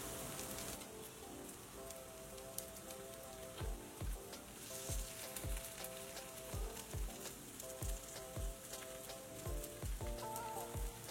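Paddu cook on a low flame in a pan with a soft, steady crackle. Faint sizzling pops sound close over a gentle tonal background of music.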